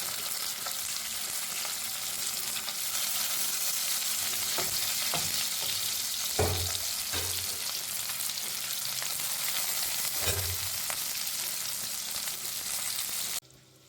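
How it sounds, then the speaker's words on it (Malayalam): Chicken kebabs shallow-fry in oil in a pan with a loud, continuous sizzle, and a few soft thumps and scrapes as pieces are moved. No one speaks. "ഇനി പാൻ വെച്ച് കുറച്ച് ഓയിൽ ഒഴിച്ച് ഷാലോ ഫ്രൈ ചെയ്തെടുക്കാം"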